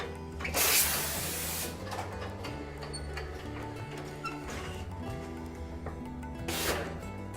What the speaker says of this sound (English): the T-Mini will fold polyester and dry fit shirts just as well as cotton shirts